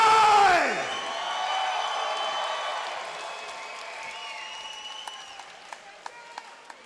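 Crowd at a fight arena event, a loud roar and applause that fades into sustained cheering with scattered whoops and a few sharp claps, with an announcer's voice mixed in at the start.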